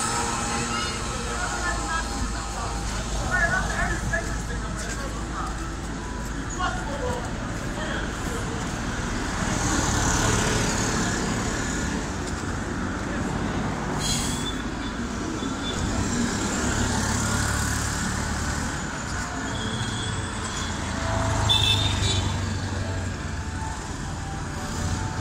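Steady street traffic on Siaka Stevens Street in Freetown, Sierra Leone, with tricycles, motorbikes and cars passing in different directions: a continuous roar of engines at moderate distance, with occasional louder passes and faint talk.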